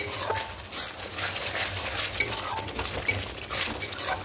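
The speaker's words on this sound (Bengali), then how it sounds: "এবার দিয়ে খুব ভালো করে কষবো। যতক্ষণ মশলা থেকে তেল না ছাড়ে ততক্ষণ অবধি একটু খুব ভালো করে কষিয়ে নেব।" Spice masala fries in hot oil while it is stirred, giving a continuous sizzle with soft scraping and occasional clinks of the utensil, heard up close.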